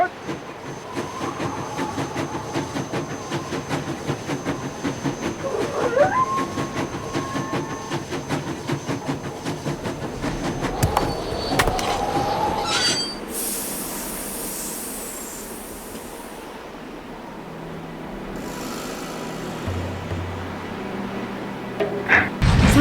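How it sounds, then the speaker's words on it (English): A train pulls away in the Nancy Drew game Last Train to Blue Moon Canyon, with a steady rolling rumble and clatter that gives way to bursts of steam-like hissing, with no talking. "Sounds like the train's leaving."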